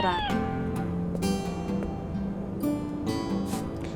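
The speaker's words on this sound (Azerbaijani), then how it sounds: "Aa, pişiyə bax." A kitten meows in a few thin, high-pitched cries, close and clear, repeated over several seconds against faint background noise.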